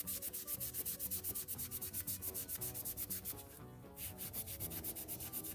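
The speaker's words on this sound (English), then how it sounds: "these little pistons are always pretty scratchy, so let's do something about that with some Scotch-Brite" A Scotch-Brite pad scrubs scratches and burrs off a small hydraulic cylinder piston in quick, steady back-and-forth strokes, close and rhythmic with a brief pause partway through.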